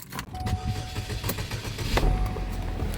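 A worn-out car that had broken down the day before, its engine cranking with a thin starter whine and then catching and rumbling on, loud and close.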